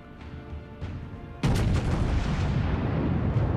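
Battleship North Carolina main-gun salvos in World of Warships: a quieter rumble gives way to a sudden loud boom, followed by a sustained heavy roar of gunfire, with no speech.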